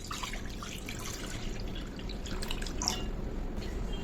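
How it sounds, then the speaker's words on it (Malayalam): A cup of water pours into a kadai on a lit gas stove, a soft, steady trickle and splash lasting a few seconds, fairly faint and unaccompanied by talk. "അത് ഗ്യാസ് കത്തിച്ച് അതിലേക്ക് ഒരു കപ്പ് വെള്ളം ഒഴിച്ചു കൊടുക്കാം"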